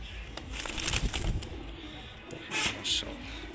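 Soft, low coos from a pair of khaki pigeons murmur close by, a few short bursts with faint rustling between them.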